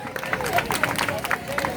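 Outdoor crowd in a park applauding at a live poetry event, a dense spread of clapping and crowd noise with voices mixed in throughout.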